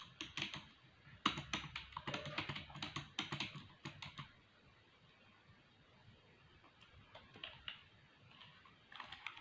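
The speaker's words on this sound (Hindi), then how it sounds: "स्पेस स्पेस स्पेस दबा के आगे आना पड़ेगा" Space bar on a computer keyboard tapped repeatedly while building a table in Microsoft Word, clusters of quiet clicky keystrokes at first, then sparser, fainter taps after a short lull.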